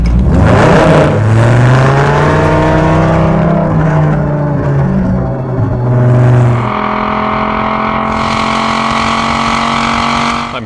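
A 1997 Dodge Viper GTS engine revs hard and loud, its snarling note climbing through the RPM range and turning raspy, then dropping back and surging again with a sustained high whir.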